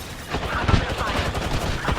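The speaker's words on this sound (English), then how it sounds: "I'm under fire." Rapid bursts of gunfire from the Apex Legends video game crackle in a dense, rhythmic fusillade for a couple of seconds, loud and close.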